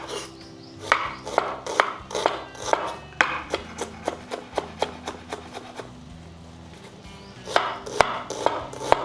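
A knife chops raw onions into thin slices on a board for Telangana-style pachi pulusu, tapping out a quick, fairly regular run of crisp, close knocks with a short lull in the middle.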